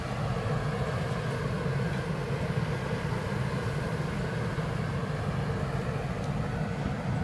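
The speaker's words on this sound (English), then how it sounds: "No, the train's running away." Train departing Newark Northgate station on the York to London King's Cross line, heard as a steady, continuous rumble and roar with a constant level, no voices.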